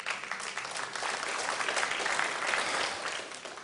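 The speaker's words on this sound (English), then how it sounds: "Give him a round of applause, seriously." Applause from a church congregation at a memorial service, many hands clapping in a continuous wash that swells slightly in the middle and then eases off toward the end, with no speech on top.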